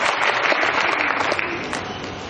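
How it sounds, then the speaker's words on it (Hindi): An audience gives loud applause as a microphone is handed over at an event, a continuous wash of many hands clapping at moderate distance that stays fairly even throughout. "आपकी जोरदार तालियों के बीच।"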